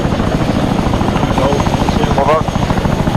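A helicopter's rotor and engine roar loud and close throughout during an airborne military operation, a steady chopping drone with faint radio-like tones briefly rising above it.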